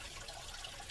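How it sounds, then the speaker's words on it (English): Water rushes back into a basement sump pit after the pump shuts off. It makes a steady, faint trickling and gurgling wash with no voices. "That's water filling back up the pit."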